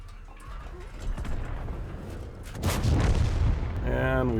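A P 44 Pantera tank cannon fires on the Redshire map in World of Tanks, one deep, heavy boom partway through over a steady battle rumble, with someone talking near the end.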